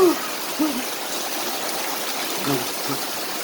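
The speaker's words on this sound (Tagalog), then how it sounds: "Sarap talaga ng umuulan." Heavy rain pours steadily outdoors as a dense, even hiss of falling water, with a few faint voice fragments murmuring briefly under the constant downpour.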